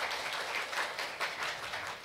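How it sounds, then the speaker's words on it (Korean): An audience at a Korean agri-food industry forum applauds a introduced official, a dense, even wash of many hands clapping at moderate volume, with no voices over it. "네, 박수 부탁드리겠습니다."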